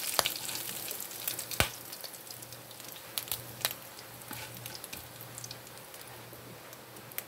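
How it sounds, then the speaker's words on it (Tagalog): A spoonful of fried garlic crackles in hot cooking oil for pork giniling, a soft, steady sizzle broken by scattered sharp pops. "Naglagay na po ako ng mantika. Tapos ilagay natin ang ating fried garlic."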